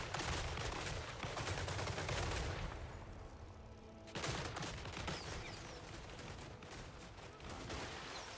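Massed musket volleys from gunpowder troops in Total War Warhammer 3 crackle in dense, continuous rattling fire, briefly thinning before a fresh loud volley erupts and the shooting carries on.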